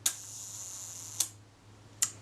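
Rolleicord Va camera shutter firing at a one-second setting: a crisp click opens it, a second click closes it about a second later, then a third distinct click follows, all close and alone in quiet surroundings.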